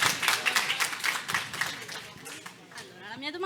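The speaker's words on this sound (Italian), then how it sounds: "Un applauso." An audience at a conference in Olbia claps to welcome a student questioner. Brisk, crisp clapping dominates the first half, then thins out as a voice starts speaking over the fading hands.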